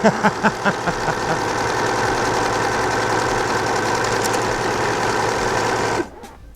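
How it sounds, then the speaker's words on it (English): A sewing machine's self-winding bobbin winder runs with a loud, steady mechanical whir and rattle after a few opening clunks, continuing evenly close up before cutting off abruptly near the end. "so it appears to be winding the bobbin"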